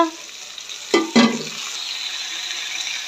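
Ginger garlic paste going into a frying pan, two quick utensil knocks followed by a steady, gentle sizzle that continues close by without any voices.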